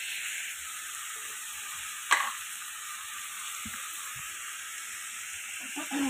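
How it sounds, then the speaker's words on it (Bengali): Potatoes fry in a pan with a steady, even sizzle, broken by a sharp scrape of a utensil stirring them and a few soft knocks. "আমি আলু ভাজতে থাকবো"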